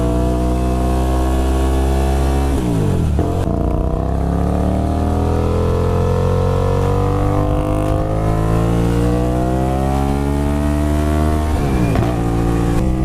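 A Naza Blade 250 motorcycle's 250cc two-cylinder engine runs loud and close, holding a steady drone with two rising revs near the start and end, and no voices.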